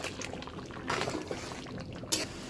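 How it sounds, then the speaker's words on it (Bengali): Fried pointed gourd (potol) pieces are tipped into a pot of pulao, giving soft sizzling and sputtering with a few brief louder clatters as they land, fairly close and with no talking. "এখন দিয়ে দিচ্ছি ভাজা পটলটা।"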